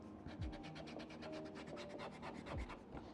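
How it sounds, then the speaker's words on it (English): Pencil lines on paper are rubbed out with an eraser in a quick, steady back-and-forth scrubbing rhythm. The sound is faint and close, with no talking. "the eraser to erase some of those other lines that doesn't work well for you"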